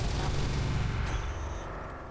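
Mech weapons fire together in the Roguetech video game: a dense, loud barrage of overlapping gunfire and explosive blasts that roars steadily for about two seconds, then tapers slightly.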